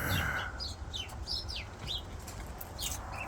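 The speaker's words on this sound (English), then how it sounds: "This is the chickens here." Chickens on a suburban backyard homestead in autumn cluck and chirp, with quick high calls scattered steadily over a constant outdoor hum. The birds sound close and no one speaks.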